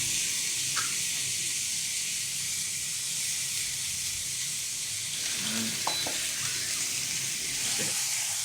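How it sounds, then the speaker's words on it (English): Steak sizzles on a grill with a steady, even hiss of searing fat that stays constant throughout, with no talking and only a few faint clicks. "Now finally, I'm ready to cook my steak."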